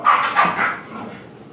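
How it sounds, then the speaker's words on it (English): Dogs barking as if about to fight, a short burst of several close, loud barks and yips that trail off into a lower whine. "dogs are wanting to fight over here."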